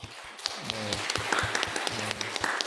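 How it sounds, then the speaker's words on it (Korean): A church congregation at a Korean Sunday service claps briefly to welcome a newcomer, a soft, quick patter of hands heard from a distance. "여기 박수로 한번 환영하겠습니다."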